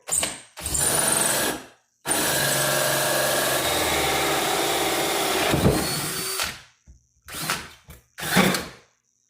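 A power drill with a hole saw, set to high torque and highest gear, grinds steadily while boring a hole for several seconds, loud and close, then stops and restarts in a few short bursts.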